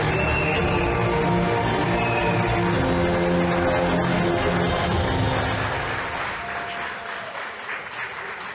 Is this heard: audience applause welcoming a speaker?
yes